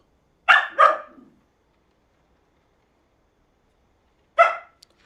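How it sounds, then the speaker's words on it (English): A dog barks twice in quick succession, then once more after a few seconds of silence, sharp and close, with no talking. "No barking."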